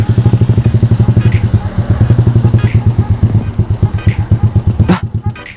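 A motorcycle engine in a video game putters loudly and close in a rapid, regular pulsing rhythm, with faint clatter and a few brief bursts over the steady thrum.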